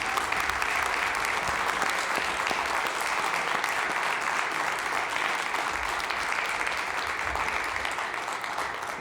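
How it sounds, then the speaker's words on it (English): At a 2022 athletic Hall of Fame induction ceremony, an audience gives the Fairmont Athletic Hall of Fame class a dense, sustained round of applause that holds at an even, full level with no talk. "let's give a big round of applause for the Fairmont Athletic Hall of Fame class"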